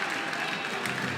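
A minor-league baseball crowd at Fluor Field applauds and cheers in a steady, dense burst of clapping as an inning ends, heard fairly close without a clear voice on top.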